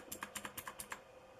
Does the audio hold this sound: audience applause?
no